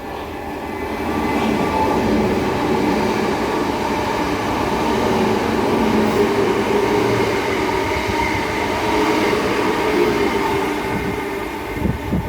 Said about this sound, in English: As there's a pass here, but by a pair of networkers